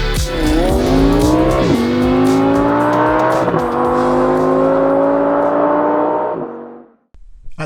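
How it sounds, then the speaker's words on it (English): A 2019 BMW X4 M40i's B58 inline six-cylinder engine revs hard and climbs through the gears, a loud rising growl with brief dips at each shift, then cuts off near the end. "At the front we have the B58 inline 6-cylinder engine."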